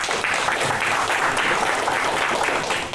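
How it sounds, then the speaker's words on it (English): Steady, dense applause from a crowd, many hands clapping at once without pause for the whole stretch. "give him a round of applause."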